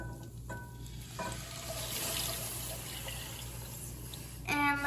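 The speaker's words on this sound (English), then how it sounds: "Now you're going to put 3 cups of water in." Water pours into a hot pan of rice that has been stirring on the heat, a steady splashing rush that builds into loud sizzling, with brief clinks of a utensil.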